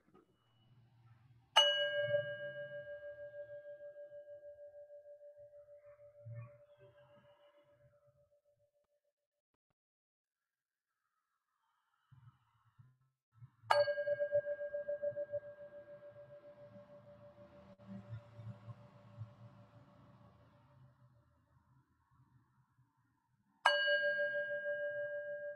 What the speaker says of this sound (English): when we hear the long sounds of the bell, we stop talking and we stop thinking